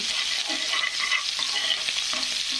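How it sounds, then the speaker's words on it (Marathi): Chopped onion sautéing in hot oil with mustard seeds and cumin in a pan for a spicy Indian recipe, giving a steady, close sizzle and crackle with stirring scrapes throughout, no voices. "कांदा छान असा परतू द्यायचा."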